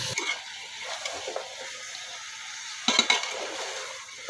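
Bottle gourd drops into spice paste frying in oil and is stirred, giving a soft sizzle with brief scraping stirs and a louder clatter of sizzling near the end, with no speech.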